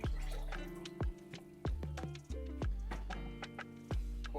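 Clear glaze is poured inside a clay pottery piece, giving a series of hollow, resonant liquid plops and gurgles with ringing tones, close and fairly quiet, with no talking.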